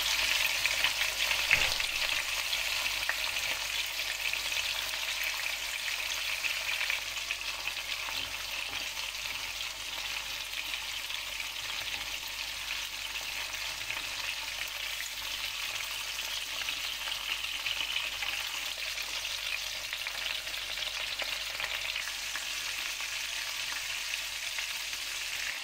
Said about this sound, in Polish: Tak jak widzicie, obsmażam mięso z każdej strony